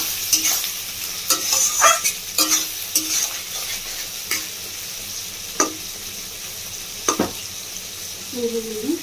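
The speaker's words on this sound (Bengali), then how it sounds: "পেঁয়াজ আর ক্যাপসিকামটা ভাজা ভাজা হয়ে যাচ্ছে।" Onion and capsicum frying over a raised gas flame for chilli chicken, loud spatula clatters and scrapes against the pan over a steady sizzle, close up with a few quieter pauses.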